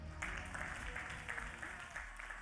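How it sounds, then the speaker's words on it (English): A launch-event audience claps steadily at moderate distance, a continuous wash of applause with a low hum underneath. "Big round of applause to MTN Momo"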